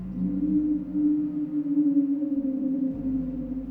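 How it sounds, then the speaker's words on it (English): A long, low, droning creature howl holds a steady moaning pitch, eerie and sustained, with no other sounds around it. "But this howl sounded nothing like I had heard."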